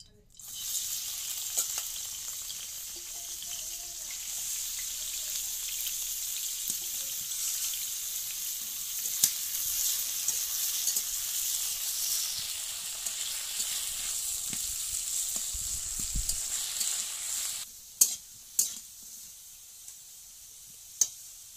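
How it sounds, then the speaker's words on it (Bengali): Potatoes fry in a village kitchen pan with a continuous soft sizzle for most of the stretch. Near the end the frying stops and a few sharp clinks break the quiet. "আমি এখন আলুটাকে ফ্রাই করে নেব।"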